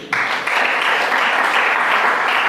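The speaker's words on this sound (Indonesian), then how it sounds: "Tepuk tangan dulu." Loud, close applause from an audience of school pupils at a religious lecture, a sustained wash of many hands clapping that swells after a brief onset and holds steady without voices.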